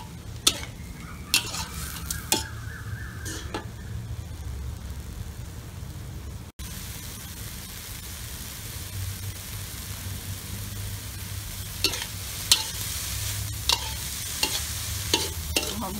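Small freshwater shrimp fried with herbs in a pan sizzle steadily while a utensil stirs and scrapes, giving irregular clicks and knocks over the hiss, close and moderate in level.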